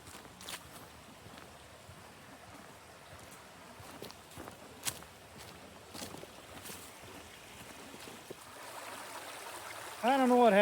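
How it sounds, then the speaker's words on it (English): A creek flows through a wooded nature preserve with a soft, continuous watery rush. Scattered footsteps and small knocks sound close by, and a voice briefly starts speaking at the very end. "Let me come back down here to the creek."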